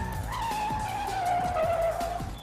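A General Motors test car at Epcot's Test Track skids with a steady tire squeal over a running engine, close and loud, lasting a couple of seconds.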